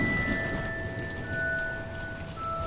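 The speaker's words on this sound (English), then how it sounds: "if you're planning for an outdoor activity and it rains." Rain sound effect: a dense, steady patter of rain falling, continuous and fairly loud throughout with no voices.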